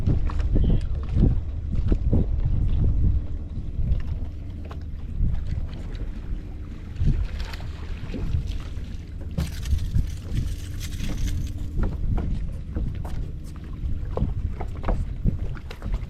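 Low rumbling of boat motors and choppy water on the Kissimmee Chain of lakes, with wind buffeting the microphone throughout.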